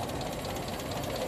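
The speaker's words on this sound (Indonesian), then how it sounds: "Dari mesin masih sangat getar sekali." The engine of a Toyota Kijang running on independent ignition idles roughly with a misfire, giving a steady, low, shaking rumble with uneven knocking pulses, heard close and alone.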